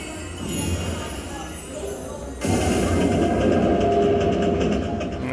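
Dragon Train slot machine train effect from a slot game: a low rumbling background suddenly jumps louder into a steady, dense chugging roar that holds to the end.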